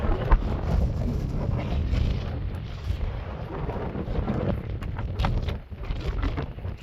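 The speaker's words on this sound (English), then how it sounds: "you're gonna be out here and it's gonna be real windy" Strong wind gusting to 40 mph roars steadily across a desert camp patio in Quartzsite, a constant broadband rush with occasional louder buffets against the microphone.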